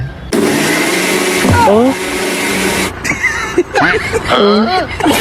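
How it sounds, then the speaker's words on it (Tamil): A faulty mixer grinder whirs loudly for a couple of seconds with a voice speaking over it, then cuts off and people talk in its place. "என்ன மிக்ஸி ஓடுது?"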